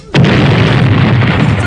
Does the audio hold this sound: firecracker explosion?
yes